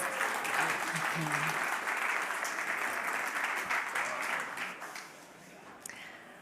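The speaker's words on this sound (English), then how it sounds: "Round of applause, please." A festival audience applauds as two speakers walk on stage for an evening session, a broad sustained clapping that is loud at first and thins out toward the end, with brief voices near the start.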